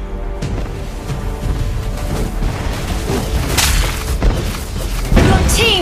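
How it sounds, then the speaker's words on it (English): A turret destroyed in Mobile Legends lands as a loud, booming crash with a whoosh near the end, set over a busy, continuous wash of in-game battle effects. "Your team destroyed a turret."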